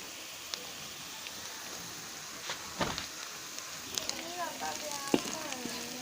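Onions frying in ghee and turning red hiss with a constant, moderate sizzle, with occasional stirring clicks. A voice murmurs briefly partway through.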